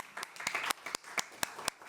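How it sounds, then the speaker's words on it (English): Applause at a school district board of trustees meeting, heard as scattered, fairly faint individual claps in an uneven rhythm rather than a full ovation. "Round of applause for Jayla."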